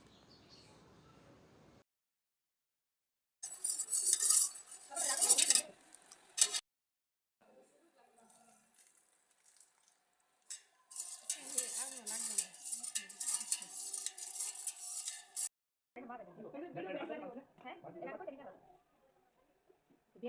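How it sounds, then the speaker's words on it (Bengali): Puffed rice is tossed together with chopped onion, green chili and tomato in a bowl, giving intermittent bursts of crisp rustling and scraping between pauses, with someone talking. "সবগুলো একসাথে মিক্সড করে মুড়ি মাখা হবে"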